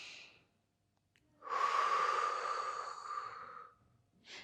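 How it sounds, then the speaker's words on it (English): An instructor draws a long audible breath and then exhales during a yogalates session, close and soft, a single airy breath cycle with a quieter breath at each end and no talking. "Inhale. Feel the expansion, exhale. Feel your navel draw to your spine."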